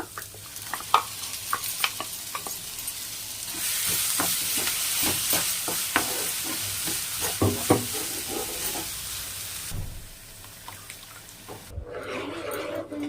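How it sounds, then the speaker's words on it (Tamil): Onions and tomato sauté in a pan, with repeated scraping stirs and clicks over a hissing sizzle that grows louder midway, then drops off near the end before a brief burst of fresh frying. "இந்த மாதிரி வதக்கிட்டு அதுக்கப்புறம் தான் நம்ம அரைச்சதை சேர்க்கணும்"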